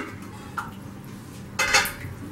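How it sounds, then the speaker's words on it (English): A lid set onto a pot of Kerala egg curry with coconut milk on the stove, a single close metallic clank and rattle after a light tap, over a quiet hum, with no speech. "Let's cover this and let it come to a boil on medium flame."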